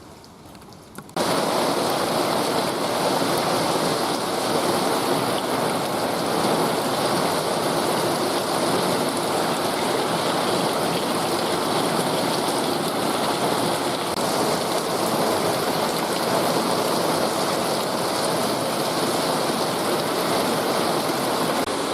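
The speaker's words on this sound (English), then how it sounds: "The rain is just biblical." Heavy rain pours down on a flooded garden plot, making a dense, loud, continuous hiss and roar of water that starts abruptly and holds steady throughout, with no one speaking.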